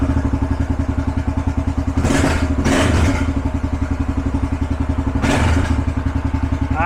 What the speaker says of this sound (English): Idles, very good. Choke is completely off now. Very snappy throttle response.